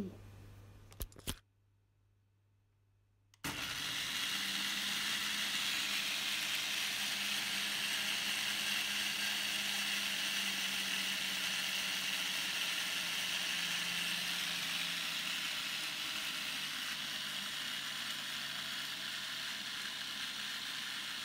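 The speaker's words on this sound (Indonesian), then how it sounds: "Food processor dari Mito Chiba Elektronik ini cara kerjanya cepet banget." After a brief click and pause, a Mito Chiba food processor motor starts and runs with a steady, loud whir.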